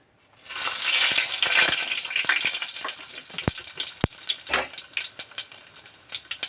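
Loud crackling sizzle as tempering spices and asafoetida hit hot oil, bursting up and then settling into a steady fry with a few sharp utensil clinks.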